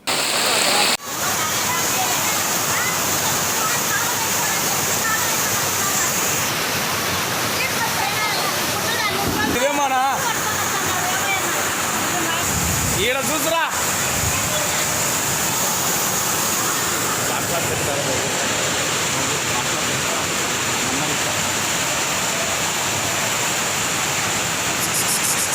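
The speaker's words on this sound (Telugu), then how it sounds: "ప్రముఖ పుణ్యక్షేత్రమైన అహోబిలంలో జోరువాన కురుస్తుంది." Heavy rain pours down at the Ahobilam temple, a steady, loud wash of water noise that holds through the whole stretch with little change.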